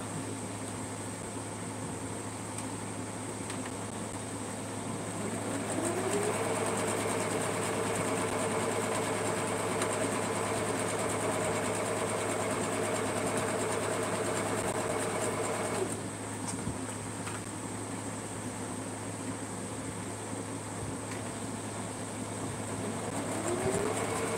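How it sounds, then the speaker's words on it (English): A sewing machine stitches steadily for about ten seconds, a whirring mechanical hum over a constant background drone, then stops. "Back to the sewing machine. Sew these down"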